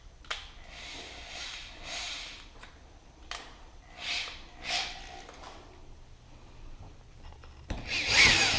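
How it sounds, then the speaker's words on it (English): A power drill whirs in several short bursts with pauses between, drilling holes in a front splitter on a 1998 Trans Am WS6, fairly quiet, ending with a brief louder scraping sound. "I'm just gonna drill these dots."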